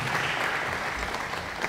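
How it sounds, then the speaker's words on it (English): An audience applauds panelists at a mental health and depression talk, a dense, continuous wash of clapping that stays level and fills the brief moment. "A round of applause again."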